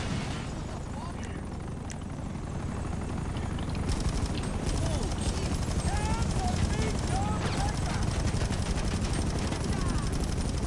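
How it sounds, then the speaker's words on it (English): Helicopters hovering and gunfire in GTA Online during a Cayo Perico setup mission, with a steady rotor drone and scattered shots and whistling tones throughout, under ongoing talk. "How many rounds have I shot with the sniper rifle and I can't hit these goddamn helicopters?"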